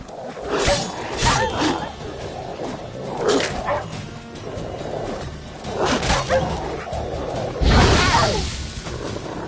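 A pack of stray dogs in The Witcher video game barks and snarls in repeated loud bursts, mixed with whooshing swipes and yelps, close up and aggressive.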